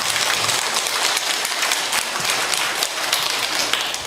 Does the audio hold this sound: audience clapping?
yes